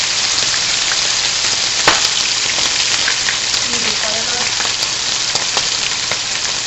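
Pork chops sear in a hot pan, giving a steady, crackling sizzle with scattered pops throughout, continuous and close.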